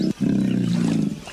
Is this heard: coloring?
no